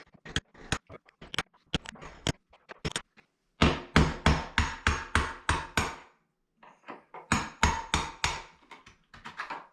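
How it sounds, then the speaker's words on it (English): Sharp metallic hammer blows strike the end of a one-piece steel screwdriver while a door is rehung, coming in quick rhythmic bursts of about a dozen evenly spaced hits, separated by short pauses, close and loud with no talking. "on a screwdriver with a hammer"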